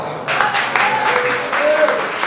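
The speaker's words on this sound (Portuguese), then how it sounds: "Aplauda ao" Church congregation applauding during a sermon, sustained clapping from many people with a voice speaking over it, fairly loud and close.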